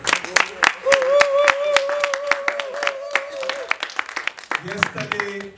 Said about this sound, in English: And I want us all to clap for them.